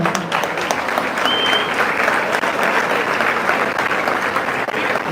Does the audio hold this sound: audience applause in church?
yes